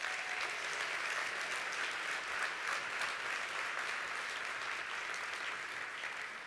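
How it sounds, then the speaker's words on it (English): Audience applause fills a conference hall at a National Speakers Association closing session, steady and dense for the whole stretch, with no talking over it. "Please help me give them a big round of applause."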